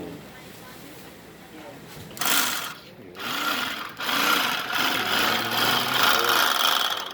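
A portable high-speed bag closing machine stitches a bag closed, its fast whirring buzz starting in bursts then running steadily and loud, with people talking over it.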